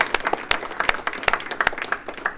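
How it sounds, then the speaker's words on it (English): A studio audience claps in a short burst, close and uneven, with scattered loud individual claps and a light crowd murmur beneath. "I always like to start out with a round of applause for you guys here"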